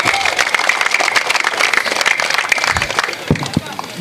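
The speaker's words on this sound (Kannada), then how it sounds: "ಅವರೆಲ್ಲರಿಗೂ ನೀವು ಒಮ್ಮೆ ಜೋರಾಗಿ ಚಪ್ಪಾಳೆ ತಟ್ಟಬೇಕಾಗಿ ವಿನಂತಿ" Crowd applause at a cricket league closing ceremony, a dense continuous clatter of many hands clapping for volunteers that holds steady for about three seconds and then thins into a few scattered claps.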